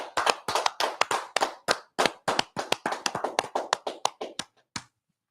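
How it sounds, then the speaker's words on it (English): Clapping at the close of a class, about twenty sharp, spaced claps in a fairly steady rhythm, close and loud, tapering off near the end with no talking. "Let's clap."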